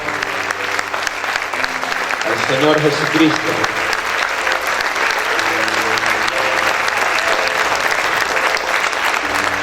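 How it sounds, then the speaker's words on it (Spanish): A church congregation applauds loudly and steadily throughout, sustained clapping with sung or intoned voices and a short spoken phrase carried over it. "Dale ese fuerte aplauso"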